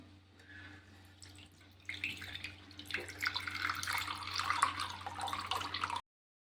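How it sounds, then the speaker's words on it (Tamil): Coconut milk strained through a filter for appam batter, the liquid trickling and splashing softly, then pouring more steadily and louder after a couple of seconds, with no talking. "நான் இன்னும் ஒரு தடவை கடைசியாக ஒரு தடவை நல்லா வடிகட்டிக்கிறேன் திப்பி இல்லாமல்"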